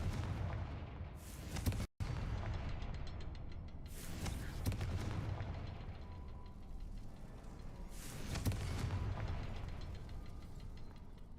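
Confringo fire spells go off in the video game Hogwarts Legacy as three heavy booming explosions a few seconds apart. Each one is a loud, broad blast that rumbles and fades over a constant game background.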